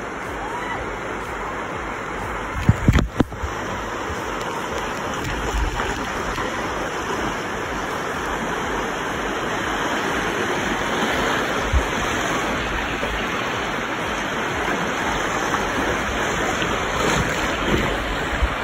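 A river in Gatlinburg, Tennessee, in summer rushes steadily with a loud, unbroken broadband roar. A few brief knocks occur early on, with no voices.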